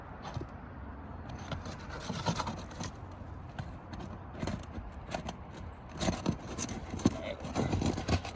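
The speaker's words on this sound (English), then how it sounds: "We're going to remove the fasteners by breaking them." Roof shingle fasteners being broken loose to remove damaged shingles, heard as rough rubbing and scraping with irregular creaks and snaps, growing louder and busier toward the end, close by with no talk.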